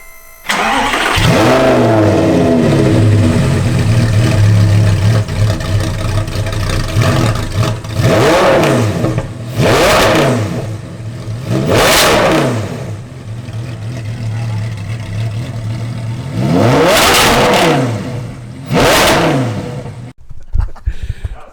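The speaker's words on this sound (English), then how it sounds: "now here's a startup with the exhaust on" An Audi R8 V10 Plus engine, fitted with straight-pipe exhaust, cranks and roars to life, then revs hard several times through the exhaust, loud and close, with deep idle between throttle blips.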